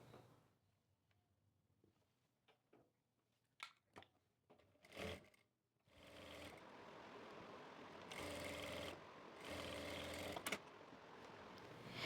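A sewing machine stitches petticoat panels together, first a few short handling clicks and taps, then a sustained close mechanical whir of stitching that runs several seconds with a brief pause and restart.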